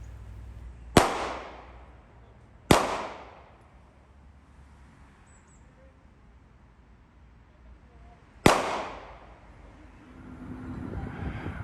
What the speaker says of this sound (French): Ça tire à Arras.